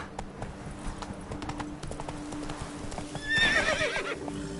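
Hooves of Roach, a horse in a PS4 video game, beat out a quick galloping clip-clop at moderate volume, and a shrill whinny rises near the end.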